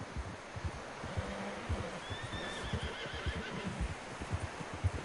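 A horse in Red Dead Redemption 2 out in the snow gives a faint, high whinny over steady clip-clopping hooves and low wind, the hoofbeats rhythmic and close while the neigh stays soft and brief.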